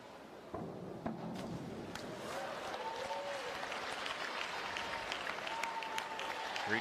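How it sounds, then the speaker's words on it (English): Spectators in the stands at a women's 3 m diving final applaud a diver, a steady wash of clapping with scattered cheers and a commentator's voice over it. "She's getting the loudest applause in the stands of anybody"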